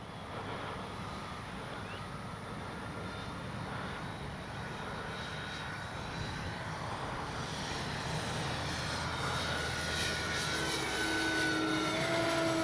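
A Flightline P-38 radio-controlled warbird with a 1600mm wingspan drones faintly in the distance in windy conditions, its electric motor whine holding steady and then rising and growing louder toward the end.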